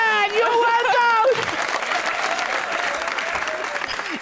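Studio audience on a Pakistani TV comedy talk show breaks into a burst of applause after a joke, dense clapping that follows a brief voice and carries on steadily to the end.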